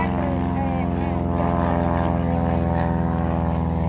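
A small crop-spraying propeller plane drones overhead, loud and steady with a buzzing harmonic engine tone that rises slightly as it passes, with voices faintly mixed in.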